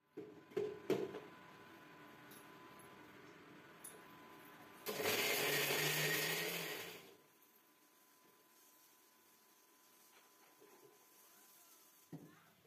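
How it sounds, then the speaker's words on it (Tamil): A mixer grinder purees coriander and coconut into a chutney paste in one loud whirring burst of about two seconds, framed by quiet clicks and knocks from handling the jar. "மிக்சியில் போட்டு நல்லா பேஸ்ட்டாக அரைச்சி எடுத்துக்கிட்டேன்"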